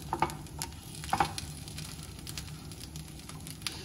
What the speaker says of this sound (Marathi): दुसऱ्या बाजूने आपल्याला ते छान भाजून घ्यायचे आहेत व्यवस्थित.